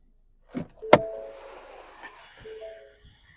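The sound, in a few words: Ford EcoSport auto-folding side mirrors motor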